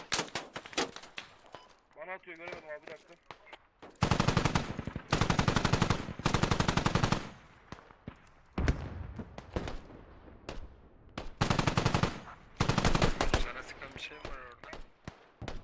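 Automatic weapon fire in the tactical shooter game Squad: long, loud bursts of rapid shots in several sustained runs, with short pauses and some quieter stretches between them, and players talking in places.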